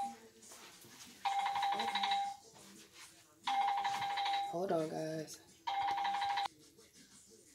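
A phone rings in three long electronic bursts, loud and close, during a soap-making session, with a person speaking briefly between the rings.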